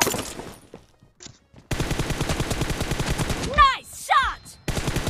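Gunfire in a shooting video game, team deathmatch: scattered single shots at first, then a long dense burst of rapid automatic fire, broken by short whooshing effects, loud and close.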